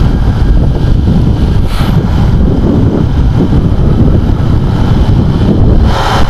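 Strong wind roars and buffets steadily against the microphone throughout, loud and continuous, with no voices, at a diversion road in Saint Bernard-Hinunangan.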